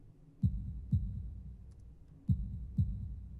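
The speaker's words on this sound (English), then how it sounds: "holding my breath in an attempt to hear my heartbeat" Heartbeat sound effect in the video game Katawa Shoujo, two pairs of deep thudding lub-dub beats, loud and close, with a pause between the pairs.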